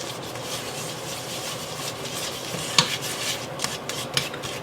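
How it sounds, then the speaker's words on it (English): A roux for cream of broccoli soup, seasoned with lemon pepper and black pepper, is stirred in a pan, giving a steady soft scraping hiss with a few sharp clicks of the utensil near the end. "Give that a nice stir."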